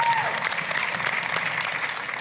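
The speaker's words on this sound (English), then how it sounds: "Let's just give a round of applause here." An audience at a panel talk gives a brief burst of steady applause, dense clapping that stays full and even from start to finish.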